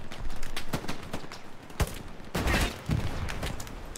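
Gunfire in the video game Hell Let Loose, a dense close burst of rapid shots in the first half, then a heavier blast and a renewed volley of loud crackling fire with no talk over it.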